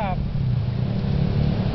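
Small radio-controlled motorboat engine running on the water on a sailing day, a steady close buzzing drone that holds throughout the brief moment.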